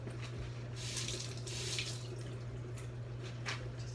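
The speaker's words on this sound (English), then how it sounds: "Just wash my hands before we do that." Tap water runs steadily into a kitchen sink during hand washing, a continuous splashing hiss with slight changes as hands move under the stream, alone without talk.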